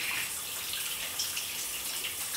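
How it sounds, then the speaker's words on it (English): A shower runs in a steady, hissing spray of water that goes on without a pause, fairly close and with no voices over it. "Takes an hour-long shower."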